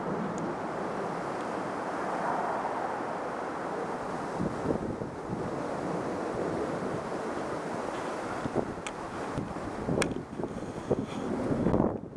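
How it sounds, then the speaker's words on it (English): Strong wind gusts outdoors among flowers in Anchorage, Alaska, producing a continuous loud rumbling roar of buffeting across the microphone with occasional brief knocks. "The wind's really blowing today."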